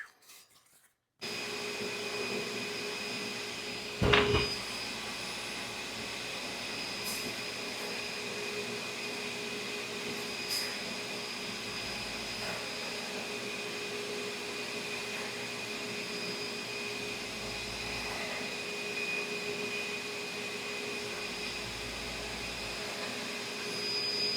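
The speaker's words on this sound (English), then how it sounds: "we'll just let this dry and we'll put it on the buffer" Steady whirring drone of a buffing wheel polishing a handmade Larsen pipe during restoration, running continuously at an even level with a brief louder scrape of contact near the start and no talking.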